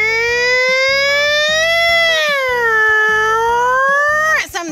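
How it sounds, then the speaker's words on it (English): A toy fire truck's loud wailing siren rising and falling in pitch, steady and close, over a pulsing electronic beat, ending in a quick downward sweep. "here's where the siren is so people know that a fire truck is on the way"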